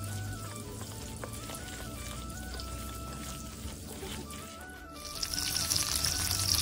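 Cabbage chicken pakora fries in hot oil in a kadai, a continuous crackling sizzle that holds steady, dips briefly, then surges louder and brighter for the last couple of seconds, with no voices.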